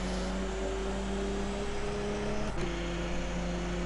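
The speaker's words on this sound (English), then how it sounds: "listen to that engine. That does not sound healthy." A damaged race car engine in the Assetto Corsa racing game drones steadily at high revs with a rough tonal hum, loud and continuous, with one brief pitch shift partway through and no voices.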